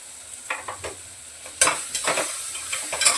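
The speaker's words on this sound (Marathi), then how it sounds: "खाली कुकरला लागू नाही दिलंय पण आपलं परतून घेतलंय तेलामध्ये" Spices sauté in hot oil inside a pressure cooker: a soft sizzle under irregular scraping strokes of a spoon against the metal pot, several louder scrapes in quick succession.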